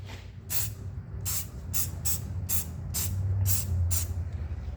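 A spray bottle pumped eight times in a steady rhythm, each a short airy hiss, over a low background rumble.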